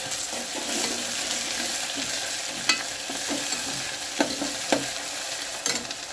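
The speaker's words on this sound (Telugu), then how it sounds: "అల్లంతో పాటు కొద్దిగా పసుపు మళ్ళీ ఒకసారి కలుపుకోవాలి" Aarikillu and brinjal curry with ginger and turmeric is stirred in a pan over a steady, close sizzle, with soft spoon scrapes and several sharp clinks against the pan.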